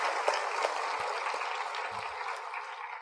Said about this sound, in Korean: 우리에게 확실하게 은혜를 주시고 지식을 주신 우리 예수님께 감사의 박수를 드려야 돼요